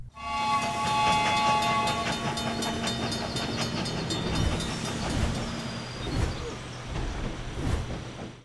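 Emerald Night train in the video game LEGO City Undercover, rolling along with a continuous rumbling drone and a sustained horn-like tone, then rhythmic clattering toward the end, loud and close.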